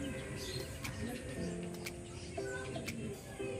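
Pigeons coo softly in a small loft, their low tones weaving through a constant steady background hiss with occasional faint clicks, fairly quiet and at a moderate distance.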